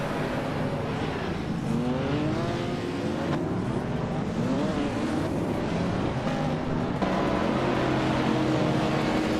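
Race cars roar loudly and continuously in a video game race, several engines rising and falling in pitch as they battle close together for position, with no break in the din.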